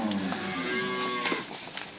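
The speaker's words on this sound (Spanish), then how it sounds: "estamos viendo vacas" Cows from mixed Inverland and La Florida herds, some with calves and some pregnant, give a loud, close moo followed by fainter lowing, with no talk.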